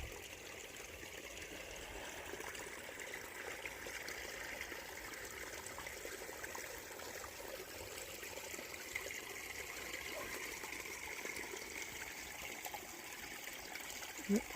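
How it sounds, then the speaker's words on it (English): A small brook trickles beside a trail campsite on the Appalachian Trail, making a faint, continuous rushing wash of water that stays even throughout. "there's a little brook right here. So it was very nice to hear that water."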